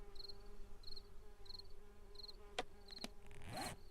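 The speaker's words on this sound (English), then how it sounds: "I hear the bees happening." Insects in the video game 7 Days to Die give a faint chirping buzz in short, evenly spaced bursts with a low hum beneath, broken by a couple of sharp clicks and a brief rustle near the end.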